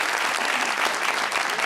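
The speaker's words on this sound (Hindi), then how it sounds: "तालियां होनी चाहिए।" Steady applause from a TV show studio audience, a dense continuous patter of clapping with no pauses, fairly loud and close.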